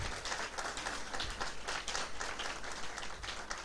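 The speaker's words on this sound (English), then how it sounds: "A round of applause, please." Steady applause from a conference audience at a closing ceremony, a dense wash of many hands clapping at moderate distance, continuous throughout with no voices over it.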